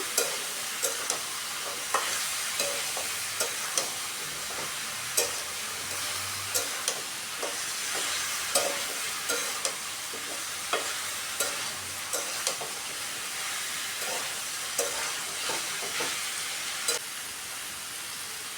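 Raw jackfruit, rinsed straight from the deep freezer, sizzles steadily in a wok while being stirred, with regular scraping clicks of the spatula repeating through the cooking; no one speaks.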